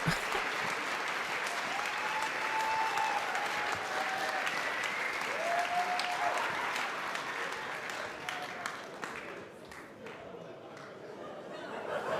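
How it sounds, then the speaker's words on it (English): Audience clapping and cheering at a live hacking event, sustained applause with scattered whoops and excited voices, fading somewhat toward the end while chatter continues. "And they're laughing and cheering."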